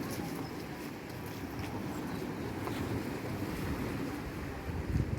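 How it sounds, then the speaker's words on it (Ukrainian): Black Sea surf rolls steadily onto Odesa's Golden Beach on an evening shore, a continuous broad wash of waves mixed with wind buffeting the microphone, no voices. "Море синє, красиве наше чорне Одеське море."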